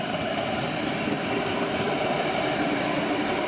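A red regional passenger train rolls steadily with a loud continuous rumble and rail noise, pulling away close by in Frankfurt (Oder), Germany.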